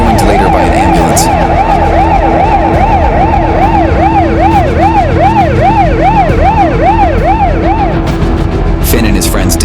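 An ambulance siren wails loudly in a steady up-and-down rhythm over road noise, close by, cutting off near the end.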